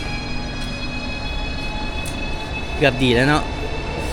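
Train rolling on rails near Barcelona, with a steady low rumble and a high whine throughout, close and loud, while a brief spoken phrase breaks in near the end.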